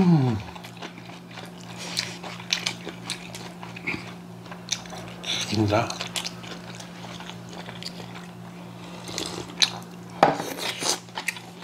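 Close-up eating of Korean home-cooked dishes including thin-sliced beef rolled with vegetables, with repeated crunchy bites and wet chewing, occasional cutlery and dish clinks, and a steady low hum underneath.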